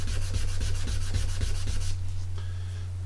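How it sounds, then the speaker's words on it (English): Fine-grit sandpaper rubbed in quick, even back-and-forth strokes over a small plastic part of a Revell 1/48 Tornado model kit, close and steady for about two seconds, then fading to lighter scratching over a constant low hum. "This is a finer grit just to polish this in."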